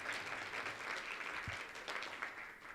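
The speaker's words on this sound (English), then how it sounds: "So everyone, just a round of applause for Ms. Hain and cafeteria workers and everyone else for attending." Applause for cafeteria workers at a high school student-of-the-month breakfast, steady clapping from a modest crowd, fairly faint and distant, lasting throughout.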